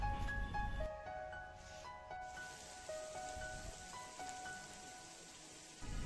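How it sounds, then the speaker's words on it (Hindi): Heavy monsoon rain pours down across the Fatehpur Sikri palace complex near the Panch Mahal, a steady hiss of falling water and drops striking surfaces, with faint higher tones drifting over the downpour and no talk. "ऊपर से मानसून की ये झमाझम बारिश"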